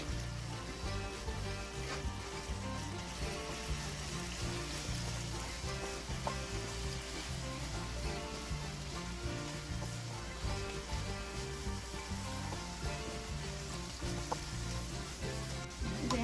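Anchovies stir-fry with shishito peppers in a hot pan, producing a steady, close hiss of sizzling oil that goes on unbroken for the whole stretch, with no talking over it.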